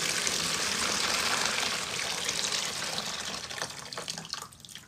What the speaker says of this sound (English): I am going to refill this with water